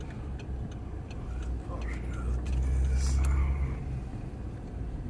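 An Audi R8 eases into a parking spot between other sports cars with a low, steady engine rumble that swells briefly mid-way. Faint ticking clicks sound above it.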